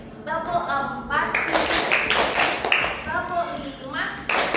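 Young third-grade pupils clap in time as a class, clusters of hand claps rising mid-clip over continuous chanting voices from the room.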